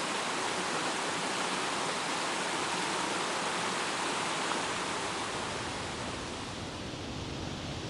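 Rough mountain creek rushing over rocks on a forested hillside, a dense, steady roar of broadband water noise filling the whole clip without pause, close and loud.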